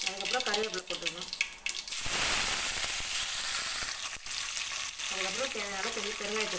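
Hot oil sizzles and crackles loudly as curry leaves hit the pan after cumin seeds, a dense hissing burst between stretches of a voice talking.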